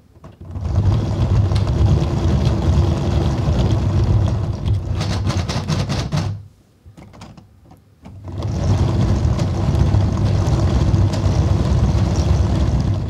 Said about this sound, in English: Let's put it into gear and hear how it sounds.